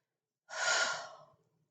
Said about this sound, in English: Sorry, that yawn thing.